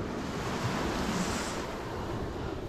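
Ocean waves wash steadily onto the shore, a continuous broad roar of surf with wind buffeting the microphone, loud and close throughout.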